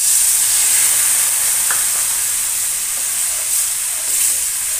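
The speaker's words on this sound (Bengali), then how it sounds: "এবার দিয়ে দেব জল।" Water hitting a hot pan of frying grated carrots, a sustained steamy hiss and sizzle that stays fairly level with a few faint utensil touches, close and without speech.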